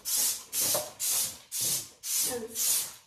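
Flash bleach cleaner is sprayed in a bathroom in six steady bursts of loud hissing mist, each about half a second long and evenly spaced, close to the listener.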